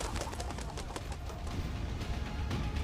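Seagull calls from a video game, heard as quick repeated cooing, squawking bird notes over a dense, constant layer of background game noise.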